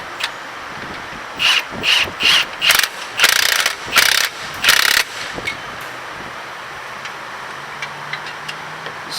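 A hand ratchet clicks as it runs down the bolts on a 2015 Honda Pilot front passenger-side CV axle, with several quick bursts of close, loud clicking followed by quieter faint ticks.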